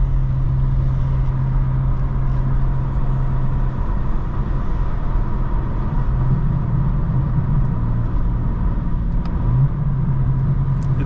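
A 2025 BMW M4 CS rumbles from inside the cabin, its exhaust giving a steady low drone with uneven burbling swells toward the end, no voices.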